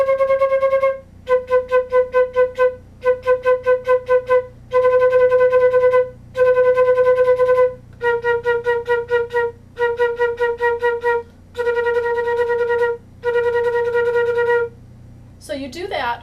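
Flute double-tonguing drill using a kutta kutta articulation: eight short bursts of rapid, evenly tongued repeated notes on one pitch, each separated by a brief breath gap, played clearly and close, with no talking.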